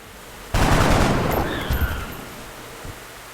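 A soldier's weapon fires in the game XCOM Enemy Within, a sudden loud burst of gunfire that rolls into a booming, decaying roar lasting over a second, with a faint thud trailing after.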